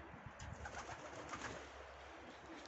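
Soft, low coos from pigeons in a loft repeat faintly in the background over a steady hiss of ambient noise.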